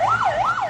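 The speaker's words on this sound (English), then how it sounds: "The siren-blaring ambulance stopped on the road while the cavalcade of the minister passed by." An ambulance siren wails on a road in Bihar, the tone rising and falling in a steady yelp-like sweep, loud and close with no voices over it.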